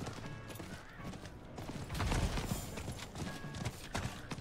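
Horse hooves clip-clop steadily in Diablo 4 as a mount trots along, a busy continuous rhythm blended with game ambience and other effects.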